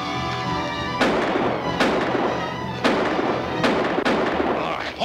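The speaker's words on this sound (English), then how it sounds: "Stop shooting at shadows before you slaughter each other." Rifle gunfire from soldiers in a classic Western battle scene, with four or five loud sharp shots at irregular intervals, each leaving a ringing tail over a steady background din.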